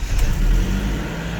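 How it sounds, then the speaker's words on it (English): A BMW E46 316i engine turns over and rumbles into a low idle, a deep steady hum with a brief rise at the start. "Let's start the car."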